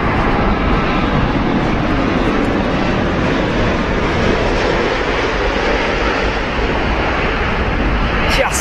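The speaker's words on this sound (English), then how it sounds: "A Virgin 787? Dash 9 indeed, yes." Virgin Boeing 787-9 landing, heard as a loud, steady broadband roar of jet engine and wind noise throughout, with no distinct peaks.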